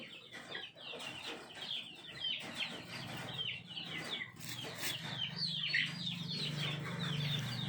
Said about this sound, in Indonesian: saya kasih dedak lagi teman-teman di atasnya, biar ayamnya dan entok yang lainnya bisa makannya sangat lahap sekali